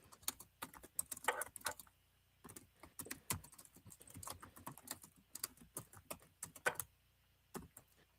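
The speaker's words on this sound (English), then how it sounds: "Can you hear that typing?" Quiet computer keyboard typing in irregular bursts of quick clicks, with short pauses between flurries, close by and alone.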